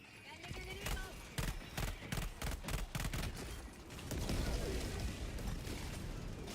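Rapid bursts of gunfire in the Helldivers video game, a dense string of sharp shots in quick succession, then a steady rumbling din; a voice talks over parts of it.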